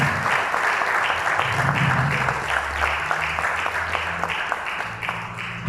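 A crowd claps steadily in a reverberant church, sustained applause with a faint low hum beneath it.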